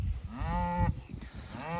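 Cattle in a grazing herd moo in close succession, two or three long, rising-and-falling calls overlapping near the listener against a low outdoor rumble.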